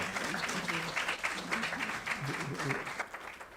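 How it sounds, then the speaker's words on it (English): A church service audience applauds a ukulele group after their song, a moderate, continuous wash of clapping with some murmuring voices mixed in. "Let's give you another round of applause."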